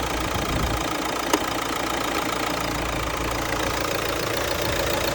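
A hot 2017 Renault Grand Scenic 1.5 dCi diesel engine with 198,000 km idles steadily up close, a constant rumbling drone with a faint rhythmic knock and one brief click partway through.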